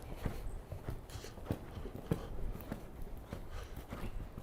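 Hooves thud on soft arena ground in a steady rhythmic gait, a horse moving at a canter, fairly faint and slightly distant.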